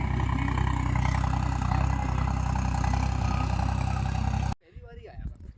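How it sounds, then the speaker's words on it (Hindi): A tractor engine arriving to pull out a stuck Suzuki Jimny, with a steady loud diesel drone and clatter running under voices before cutting off abruptly near the end. "ये आ रहा है ट्रैक्टर"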